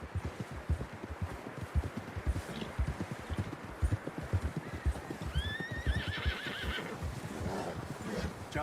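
In Red Dead Redemption 2, a horse's hooves beat a fast, close galloping rhythm, and partway through a loud whinny rises over the hoofbeats.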